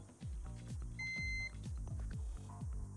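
A multimeter continuity tester beeping across a cut trace on an old computer mainboard: one steady half-second electronic tone over a constant background hum with repeating low thumps.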